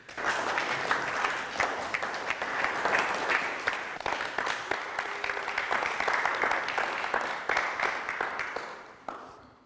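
An audience applauds a female contestant at an evening show, with steady, dense clapping from a sizable crowd that holds for several seconds before tapering off near the end.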